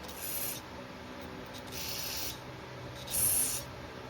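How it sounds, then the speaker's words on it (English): Three hissing bursts of carburetor cleaner spray on a Stihl BG65 leaf blower carburetor, each about half a second, close by and fairly quiet, with a faint background hum between them. "Just gonna spray down every little hole that there is here."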